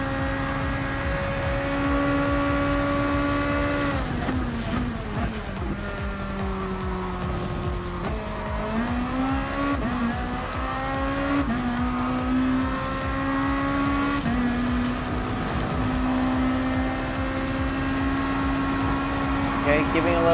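Race cars from the Gran Turismo Sport All Japan GT Championship, including a Volvo GTR and an NSX, drone with revving engines and shifting pitch as they corner and overtake, loud and continuous throughout, with a voice talking over them.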